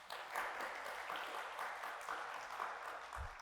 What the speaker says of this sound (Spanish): Démosle un aplauso a nuestro equipo de producción.